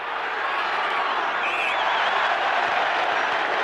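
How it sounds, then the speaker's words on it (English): A big New Zealand supporting crowd cheers at a 1984 Bledisloe Cup rugby test against Australia, a dense, steady roar with applause that fills the whole stretch at high volume, with no clear voices above it. "As you can hear, there is a very big New Zealand support in the crowd today."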